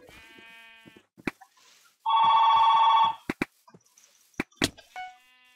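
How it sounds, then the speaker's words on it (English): A Minecraft telephone rings in a single loud electronic burst lasting about a second, surrounded by short clicks, bleat-like game tones and sparse effects. "Oh, the phone."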